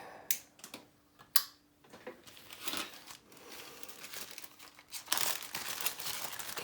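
A strip of lead foil is handled and crinkled at close range, with irregular sharp crackles and soft rustles that come in bursts and grow busier toward the end.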